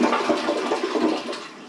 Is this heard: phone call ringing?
no